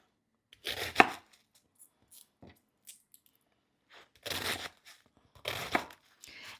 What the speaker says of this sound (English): you just want to cut it into bite-sized pieces